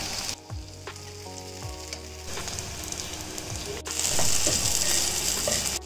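Dry chillies and tomato fry in a pan with a steady sizzle that grows louder midway, with occasional stirring clinks.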